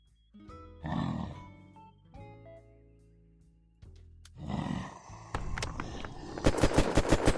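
Gunfire in a video game, with tonal game sounds and effects giving way to loud, rapid bursts of shots near the end and no one speaking.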